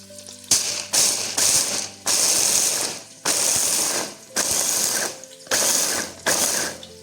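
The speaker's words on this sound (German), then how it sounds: "mache ich die Erdnüsse schon mal ein kleines bisschen feiner, indem ich sie in den Mixer stecke" A blender whirs in loud bursts, roughly six pulses of grinding, rattling noise separated by short pauses, close by, chopping peanuts finer.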